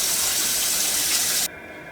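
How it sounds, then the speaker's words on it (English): A running shower gives a steady, loud, broad hiss of water that cuts off sharply partway through, leaving a quieter background with no voices. "My sister's taking a shower, so I don't know if you can hear the water running"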